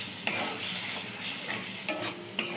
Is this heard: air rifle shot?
no